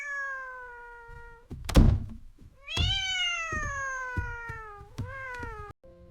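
A cat lets out long, drawn-out meows close by, broken by a loud thump and a few scattered knocks, then a shorter meow.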